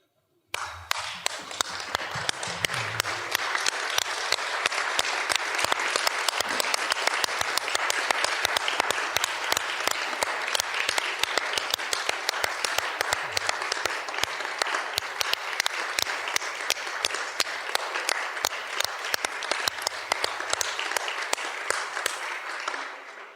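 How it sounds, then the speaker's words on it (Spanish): A standing audience at a book presentation applauds steadily and loudly for over twenty seconds, a dense continuous wash of many hands clapping after a brief spoken prompt. "Los voy a invitar a pararnos y aplaudir."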